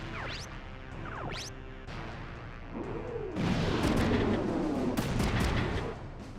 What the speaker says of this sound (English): Did we get far enough out of the way of the bombing?